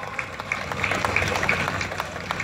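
Applause from the crowd at Rally Varna 2015 rings out as a steady, moderate outdoor patter of clapping, fairly distant and continuous throughout.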